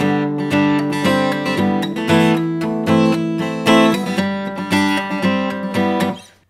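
Acoustic guitar strums the pre-chorus, heavily palm muted, with steady rhythmic chord chops that ring full and close before fading out at the end; no voices.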